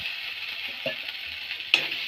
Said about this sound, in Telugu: మంచిగా ఫ్రై అయిన దాంట్లో అల్లం వెల్లుల్లి పేస్ట్ వేయాలండి.